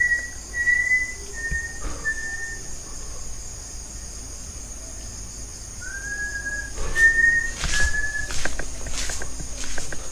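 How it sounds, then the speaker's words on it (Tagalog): Several short, thin whistled tones rise and fall at intervals against a steady night chorus of insects, with a few faint knocks in between. "Sino yan sumisipol?"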